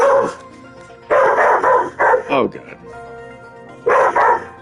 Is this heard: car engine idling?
no